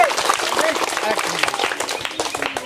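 An audience claps for the winning pairs at a village women's ball-balancing game, a dense, even patter of hands lasting throughout, with voices talking over it.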